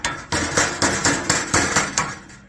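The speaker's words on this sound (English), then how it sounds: "So then you're going to take your mallet and just hammer that" Mallet blows on HVAC sheet metal, about eight sharp metallic bangs in a fairly regular rhythm, close and clear with a ringing clatter after each strike.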